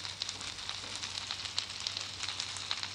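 Burning in the Minecraft video game gives a faint, steady crackling and sizzling bed with scattered small pops, with no talking.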